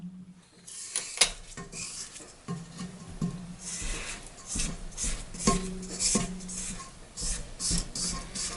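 A spatula scrapes a buttery mixture from the edges of a mixing bowl for a coconut pie, giving close, irregular scrapes, taps and light clinks against the bowl.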